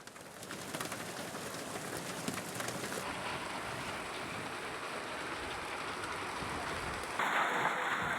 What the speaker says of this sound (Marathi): अकोला जिल्ह्यातील अकोट तालुक्यात गारपिटीसह पाऊस बरसला